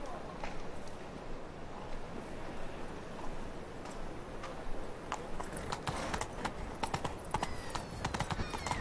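Hooves clip-clop steadily as Roach, the horse in The Witcher 3: Wild Hunt on PS4 Pro, trots along, with a continuous rhythmic beat over a soft background bed and occasional sharper hoof clacks.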